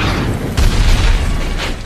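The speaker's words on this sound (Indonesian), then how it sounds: "langsung menyerang balik dengan basokanya" A bazooka blast from an action film sounds as a deep, booming explosion, loud and rumbling with a heavier surge midway through, no voices over it.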